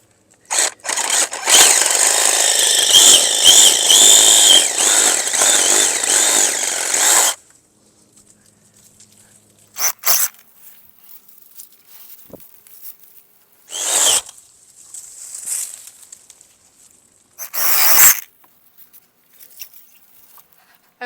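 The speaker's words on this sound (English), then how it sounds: "I'm going to remove. And I'm going to use the Sawzall to do that." A Sawzall reciprocating saw rasps loudly through tree branches for about seven seconds during fall pruning near hydrangeas, then stops, leaving scattered rustles and snaps of branches being handled.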